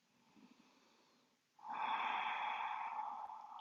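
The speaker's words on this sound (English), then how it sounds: "Deep, deep breathing out." A slow, deep exhale during a mindfulness exercise, breathy and close, swelling in after a quieter inhale and trailing off gradually, with no talking.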